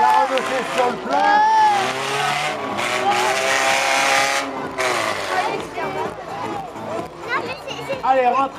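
A Renault 16 stock car races on a dirt oval track, engine roar and tire noise rising and fading as it passes, under continuous loudspeaker commentary and crowd noise.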